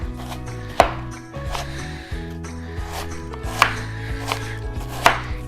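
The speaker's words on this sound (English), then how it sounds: "we're just gonna keep snipping and cutting" A knife cuts a Granny Smith apple into pieces on a board, giving several crisp, close chops spaced irregularly over a low background hum, with no voices.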